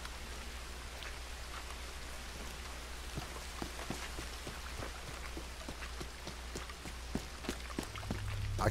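Steady rain pours over a flooded swampy region in a video game, a dense hiss with scattered sharper drops close by, continuous and without talk.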